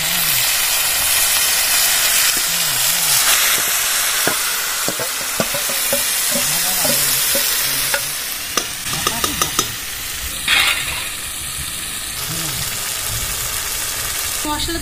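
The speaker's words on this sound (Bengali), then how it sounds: "এবার মাছগুলো দিয়ে দেবো।" Hilsa fish pieces fry in hot mustard oil, a loud continuous sizzle with bubbling crackle and occasional spoon clinks, faint voices murmuring in the background.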